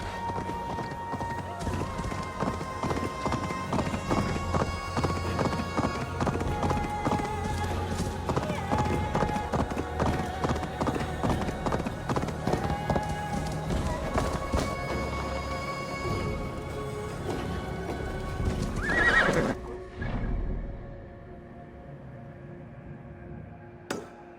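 Horse in the video game Assassin's Creed Valhalla, steady clip-clop of hooves in a brisk rhythm over a background of ambient game sound and music, with a neigh near the end before the scene quiets to a faint hum.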